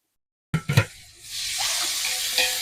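Green chillies with whole garam masala and a pinch of salt hit hot oil in a pan for prawn biryani, first a few quick stirring knocks, then a rising, steady close sizzle.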